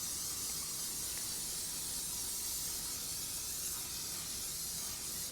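Cooking spray hisses from a can onto a baking pan for an apple cider donut cake, one long continuous spray that holds steady and close.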